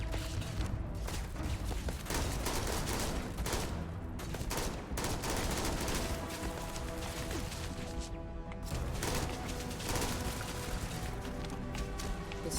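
Turrets firing in a video game, a dense, continuous barrage of rapid shots that stays loud and steady throughout, with other game effects mixed into the noise.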